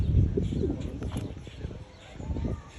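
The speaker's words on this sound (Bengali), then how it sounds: "চলে আসছে সেই পায়রা দেখেন" Pigeons cooing in a park, soft low coos repeating at close range under a person's talking and light outdoor ambience.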